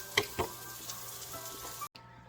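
Sliced white mushrooms cooking down in spaghetti sauce give a soft, close sizzle with two quick clicks near the start before cutting off abruptly.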